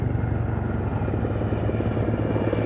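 A military helicopter flies at low level, its steady rotor thump and turbine roar holding loud and close throughout with no voices.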